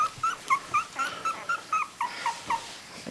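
A litter of three-week-old Dachshund puppies gives a rapid series of thin, high whimpers and squeaks, about a dozen short cries close by. The whines overlap and come in a steady, restless rhythm.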